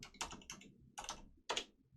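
Computer keyboard typing heard up close: four distinct, separated key presses, ending with a firmer tap like an enter key, in a quiet room.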